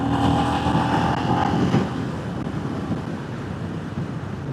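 Royal Enfield motorcycle riding between Kelso and Duns, a continuous engine drone blended with heavy wind rush across the microphone, loud and steady.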